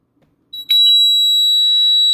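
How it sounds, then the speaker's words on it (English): The internal siren of a home security system sounds for a police alarm, a piercing steady electronic tone that starts abruptly after a few short beeps and holds loud and unbroken to the end. "The internal siren will sound and it will be logged to the central station for dispatch"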